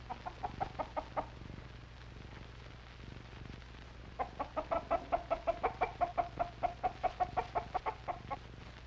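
Hens cluck in a film soundtrack, a short run of rhythmic clucks followed by a pause, then a longer steady series of evenly spaced clucks, moderately close over a faint hum.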